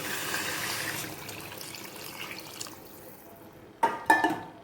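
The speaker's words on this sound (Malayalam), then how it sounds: "വെള്ളം ഇവിടെ ഞാൻ ഒഴിച്ചു കൊടുക്കണം." Water pours steadily into a cooking pot for biryani, a rushing splash for a few seconds that thins out before a couple of sharp metallic clanks close by.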